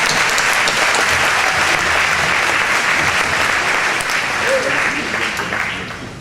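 Audience at a Southwest Jewish Congress event gives another round of applause for honored women, a loud, continuous crowd clapping that holds steady and eases slightly near the end.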